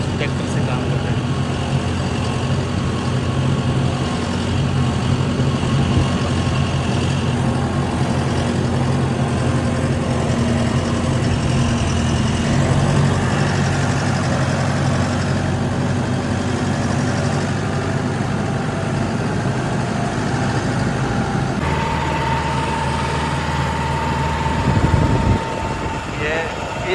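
A tractor works on a farm in Italy, its engine a steady low rumble and drone that fills the whole stretch before a brief thump and shift in tone near the end; no speech is heard.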